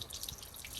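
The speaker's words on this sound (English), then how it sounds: "left this hose blasting it until the water runs clear like this" A hose sprays and trickles water over aquarium sand being rinsed in a bucket for a reef tank, a faint steady splashing with small drips, brief and with no voices.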